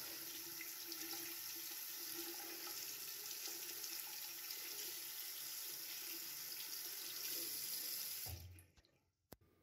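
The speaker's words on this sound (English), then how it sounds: "you can just hold a plastic ocarina underneath a running tap" A plastic ocarina is held under a running kitchen tap, giving a steady loud hiss of flowing water for about eight seconds before the tap is shut off and a brief clunk follows.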